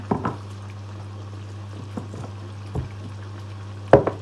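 Fish sauce poured into food cooking in a pot, a brief liquid splash and trickle over a steady low kitchen hum, with a few soft clinks and a sharper knock at the end.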